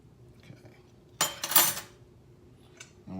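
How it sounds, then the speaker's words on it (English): A brief burst of clinking and scraping as a utensil stirs zucchini with coconut flour in a bowl, loud for about half a second, then a faint tap and a clatter at the end. "we just want to make sure that we mix it up well and we coat all of the zucchini with it"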